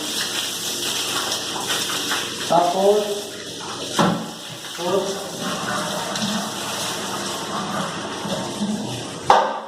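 Water gushes and sprays steadily while a public toilet is washed down, a continuous rushing wash under a person's ongoing talk.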